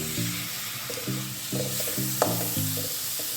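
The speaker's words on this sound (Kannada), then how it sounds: "ಟೊಮೆಟೊ ಎಲ್ಲ ಸಾಫ್ಟ್ ಆಗಬೇಕು, ಅಲ್ಲಿ ತನಕ ಫ್ರೈ ಮಾಡ್ಕೊಳ್ಳೋಣ." Chopped tomatoes frying in spiced masala in a pan for squid curry, with a constant hiss of sizzling oil. Repeated short tonal scrapes of a spatula stirring sound close throughout.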